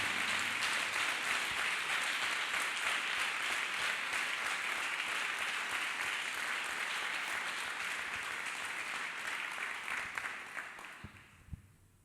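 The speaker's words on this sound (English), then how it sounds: "Clap hands for the Lord." Church congregation clapping hands for the Lord, a full, steady burst of many hands that carries on for several seconds before tapering off and fading out near the end.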